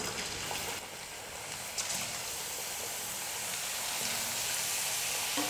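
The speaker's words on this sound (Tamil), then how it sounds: "எண்ணெய் நல்லா காஞ்சதுக்கப்புறமா நம்ம ஸ்லைஸ் பண்ணியிருக்கிற உருளைக்கிழங்கு போட்டு பொறிச்சிடலாம்." Sliced potatoes deep frying in hot oil for homemade chips, a steady, dense sizzle and hiss that holds close and even throughout, slowly swelling a little louder.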